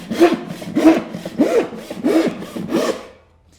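A hand saw cuts through hardwood in about six steady strokes, each a close, raspy rush with a brief gap between, fading out at the end.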